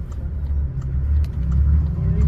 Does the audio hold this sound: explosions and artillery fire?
no